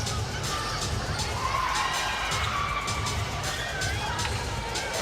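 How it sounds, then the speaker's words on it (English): Young spectators squealing amid a busy basketball arena crowd during a women's international game, with steady crowd noise and scattered high-pitched cries over a continuous rumble. "Some youngsters in the crowd here squealing."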